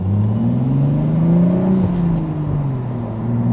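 A loud, close engine of a manual Toyota Supra MK5 revving, its pitch climbing and then falling, with a deep throaty rumble throughout.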